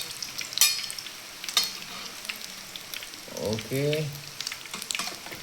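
Beaten egg mixed with celery leaves and spring onion is poured into a hot pan to make a folded omelette and sizzles and fries steadily. Scraping clicks come and go, and a voice speaks briefly.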